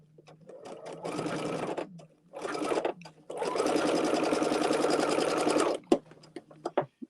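A sewing machine stitches a quilt block seam in bursts: a short run, a brief second run, then a long steady whirring stretch, with clicks and handling noises between, close and clear.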